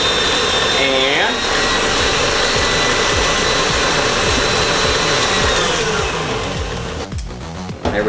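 An electric mixer whirs continuously through coconut cream cupcake batter, a loud, close motor drone with rhythmic pulses as the beaters turn, briefly changing pitch near the start and cutting out toward the end.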